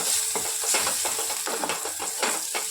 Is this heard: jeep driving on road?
no